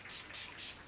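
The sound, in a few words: spraying Skindinavia makeup primer spray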